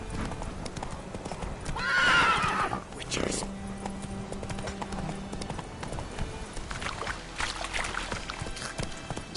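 Hoofbeats of a horse clip-clopping at a gallop in a video game, with a loud neigh and whinny early on, while a person talks over the action.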